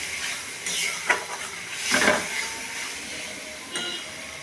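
Spice masala for jackfruit curry sizzles and hisses in a pan after a splash of water, a steady frying hiss with bursts of steam and stirring scrapes, close up and without talk.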